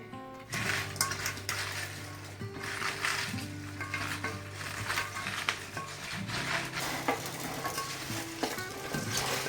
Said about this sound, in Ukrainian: Але не треба так її дусити, просто перемішати легенько